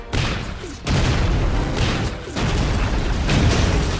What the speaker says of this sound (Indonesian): Selesai meledakkan satu tank musuh